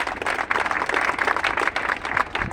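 A crowd applauds a prize winner at a workplace awards event: steady, dense clapping from many hands, fairly close and continuous for a couple of seconds.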